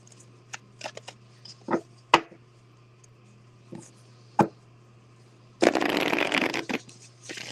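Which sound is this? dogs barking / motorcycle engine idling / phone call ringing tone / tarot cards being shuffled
tarot cards being shuffled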